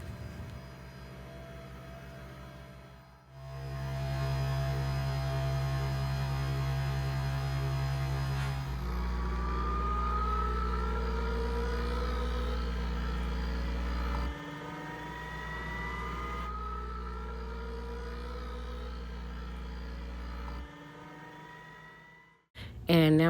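A Nespresso machine brews espresso with a steady, loud pump hum and a tonal whine that shifts pitch in several stages, rising sweeps building toward the end before it cuts off.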